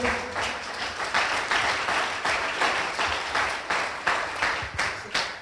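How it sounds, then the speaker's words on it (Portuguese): A church congregation applauds during a Thursday sermon, sustained crowd clapping with rhythmic surges, fairly close and full, no speech over it. "Pode aplaudir ao Senhor."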